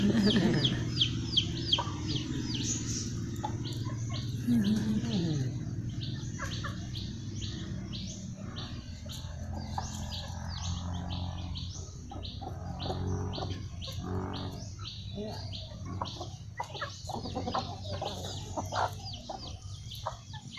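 Chickens cluck and call continuously in a busy yard, with chirping birds layered over a steady low background hum.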